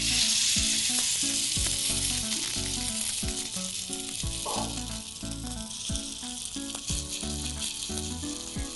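Sprout appam batter, made with crushed vada, frying in oil on a pan, a loud continuous hiss and sizzle close up with occasional light clinks and scrapes.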